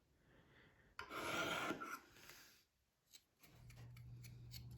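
Rasping strokes of a knife blade drawn across the rod of a Lansky Turnbox sharpener, a loud burst of swipes followed by quieter scraping and a low hum, with no talk.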